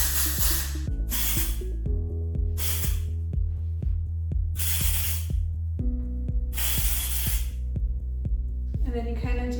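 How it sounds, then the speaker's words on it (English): Texture spray misted onto hair in repeated short bursts, five or so loud hissing pulses separated by pauses, with steady music playing underneath. "now I'm going to add some more texture spray while kind of just throwing my hair around"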